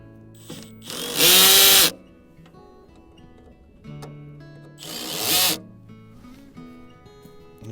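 Power drill driving screws into a mailbox mount, two loud bursts of about a second each separated by quiet pauses, close by with no talking.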